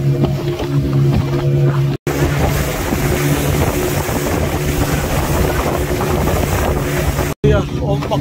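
A boat pounds through strong waves near Hamadi harbor, with a constant loud rush of wind and water, engine drone and rolling thumps. Two brief dropouts cut the sound, and voices come through faintly under the noise.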